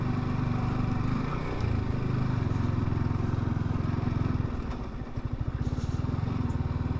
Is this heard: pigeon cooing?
no